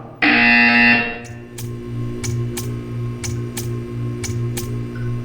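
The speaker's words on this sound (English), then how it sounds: "You will hear a buzzer." A loud, flat electronic buzzer blares for about a second in the Portal 2 video game, then gives way to a low hum and a string of evenly spaced clicking ticks.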